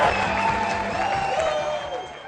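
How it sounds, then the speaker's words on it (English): Audience in a hall clapping and cheering for a corporate CEO, a dense continuous wash of applause with scattered whoops, steady and loud for the whole stretch. "Get on your feet and clap until your hands hurt"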